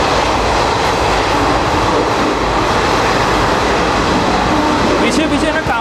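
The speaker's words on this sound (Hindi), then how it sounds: "ये तो गरीब रथ है, ये एक प्रीमियम ट्रेन है।" The Garib Rath Express runs at speed, a loud, steady roar of wheels and rushing air heard from on board, with a brief higher squeal near the end.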